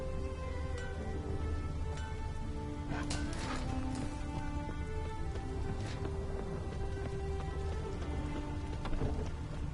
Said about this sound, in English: raining fucking buckets